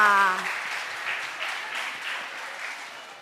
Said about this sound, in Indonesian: Kita tepuk tangan untuk adik-adik sekolah minggu HKBP Kebayoran Lama.